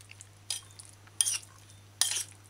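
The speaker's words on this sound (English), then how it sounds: "stir it in properly" A utensil scraping and clinking in a bowl as mixed vegetables are stirred into an Irish potato salad, three distinct strokes spaced apart over a low steady hum, with no talking.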